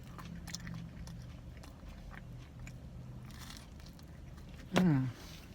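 Soft chewing of pizza topped with olives inside a new car, quiet mouth sounds with faint crunches, then one sharp louder bite near the end.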